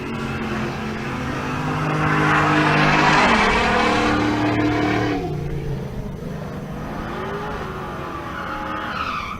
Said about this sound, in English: And here comes that Camaro.